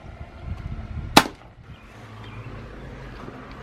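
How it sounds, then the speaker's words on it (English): A single sharp shot from a silenced airgun firing a Barracuda Hunter Extreme pellet, with the impact on the target hard to separate from it. The report stands alone, with quiet background before and after. "that was the very first shot using the new Barracuda Hunter Extremes"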